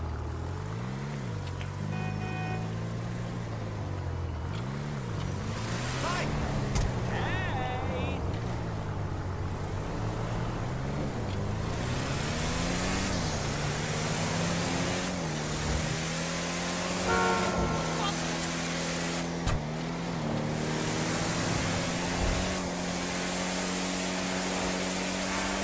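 A car engine in GTA Online on a test drive, with its pitch rising and falling through gear changes and revs over a long stretch, steady and close, while someone talks over it.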